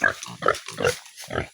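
A pig grunts and oinks close by in four or five short, rough bursts with brief gaps, loud and unaccompanied by talk.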